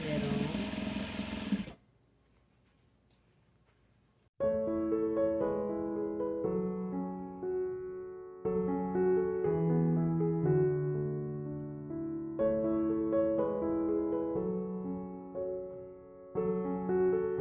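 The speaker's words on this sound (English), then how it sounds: "So we're going to sew down the middle of this ruffle." A sewing machine stitches down the middle of a fabric ruffle on a scrappy rag table runner, running in steady bursts with short pauses after a brief noisy start and a quiet gap.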